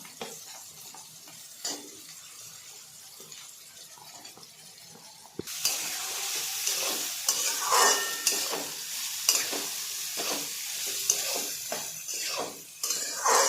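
Potatoes and carrots drop into hot oil and break into a loud, sustained sizzle. Before that there are quieter clinks and stirring noises, and a spoon scrapes the pan now and then while the pieces fry.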